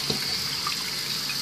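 Hot water runs steadily from a tap, filling a container for scented water beads, with a continuous close hiss and splash throughout.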